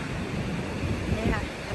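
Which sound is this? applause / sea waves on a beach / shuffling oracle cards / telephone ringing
sea waves on a beach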